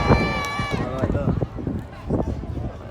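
An airshow crowd lets out a loud burst of shouts and cheers at close range, then breaks into scattered calls and chatter.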